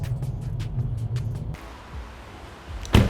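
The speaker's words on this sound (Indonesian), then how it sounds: "di sini yang mendominasi tuh suara bannya." Tyre roar inside a moving Mercedes-Benz E-Class coupe, a steady low rushing hum with faint ticking early on and a brief thump near the end.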